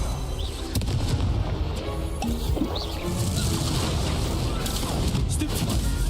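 A Confringo fire spell bursts in Hogwarts Legacy amid a dense, continuous barrage of magical combat effects, with repeated cracks and booms over a rumbling low layer.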